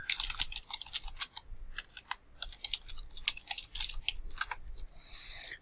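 Rapid, uneven clicks of a computer keyboard as a command is typed, close and fairly quiet. Keystrokes come in quick bursts with short pauses and no voice.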